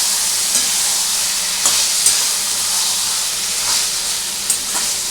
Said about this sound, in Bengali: এবার এইটা আমাকে কিন্তু খুব ভালো করে নাড়াচাড়া করতে হবে